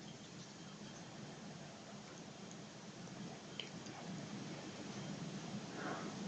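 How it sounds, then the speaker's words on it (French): Steady rain falling outdoors, an even close hiss with light drips and splashes on surfaces, continuous throughout, though no thunder stands out clearly. "Je filme la pluie qui mouille."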